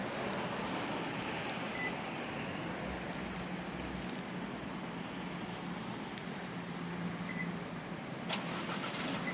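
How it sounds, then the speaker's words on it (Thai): An Isuzu MU-X 1.9 top-trim SUV started remotely from outside, its engine turning over and settling into a steady mid-pitched idle, heard from nearby outdoors and continuous throughout with no talking. "รถสามารถสตาร์ทรถ จากภายนอกได้นะครับ"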